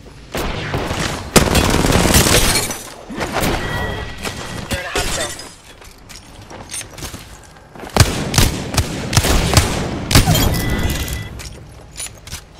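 Loud bursts of automatic gunfire in the battle-royale shooter Apex Legends, sharp cracks and shattering impacts in two heavy clusters separated by a quieter stretch, with voices underneath.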